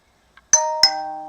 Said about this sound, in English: Ding dong, ding dong. Don't know what my phone's doing.